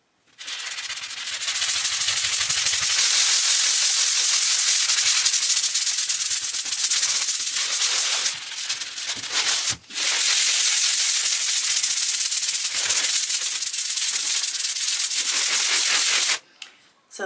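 Wall filler on a bathroom wall being sanded, a loud, continuous abrasive rasp that runs almost unbroken for most of the time, with one brief pause midway and no talking over it.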